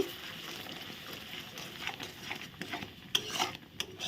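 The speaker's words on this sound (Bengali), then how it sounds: "ভালো করে নেড়ে নিলাম" A spoon stirs a paste of paneer and milk through butter in a pan while making butter paneer masala, giving soft, steady scraping and light clinks at close range, with no talking.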